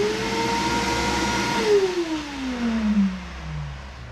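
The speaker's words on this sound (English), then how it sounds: "When you turn the vacuum on, look at how it just sucks it down." A vacuum pump runs for an XCarve vacuum bed holding down EVA foam, a steady mid-level drone whose pitch slowly falls as the motor changes load, with no speech.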